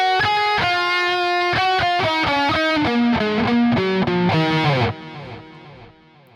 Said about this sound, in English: So it's a fairly straight delay pedal, echo pedal.